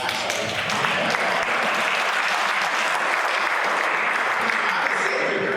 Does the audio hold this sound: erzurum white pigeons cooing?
no